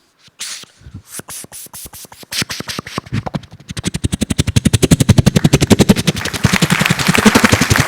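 A voice imitates a helicopter, rapid rhythmic chopping pulses that start slow and sparse, then speed up and grow louder into a steady whirring beat.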